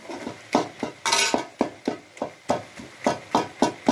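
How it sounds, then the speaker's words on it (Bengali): A hand masher pounds steamed taro leaves in a pot or bowl, giving a close, steady series of about a dozen dull thuds and scrapes at an even rhythm, with no talking. "আমি এটা দিয়ে পিষনি দিয়ে একটু থেতো করে নিলাম"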